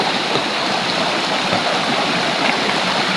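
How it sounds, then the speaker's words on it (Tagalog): A small stream rushes steadily nearby, a loud continuous wash of flowing water with no pauses or voices. "Yung sapa, oh."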